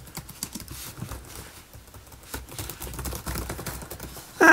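Typing on a Chromebook keyboard: a steady run of light, rapid key taps at close range, irregular in rhythm, with no talking over it and a louder bump at the very end.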